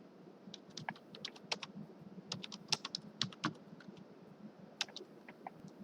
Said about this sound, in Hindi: आप यहाँ पर इसको टाइप कर, जो भी आपका टॉपिक है वो आप टाइप कर सकते हैं।